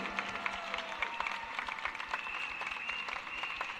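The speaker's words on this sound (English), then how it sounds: "Give them another big round of applause, all our new candidates." A crowd at a political rally applauds new election candidates in Singapore, with dense, steady clapping that carries on through the whole stretch at a moderate distance.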